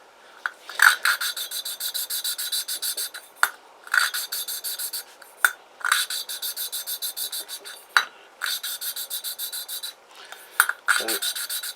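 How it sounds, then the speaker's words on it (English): Valve lapping on a Kymco Agility 125 cylinder head gives a rhythmic gritty rasp, close and clear, made of short bursts of back-and-forth rubbing with brief pauses and light taps where the valve is lifted and dropped. "that's pretty much valve lapping"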